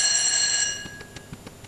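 A shrill electronic telephone ring with steady high tones sounds for about half a second, then falls to faint clicks and scattered noise.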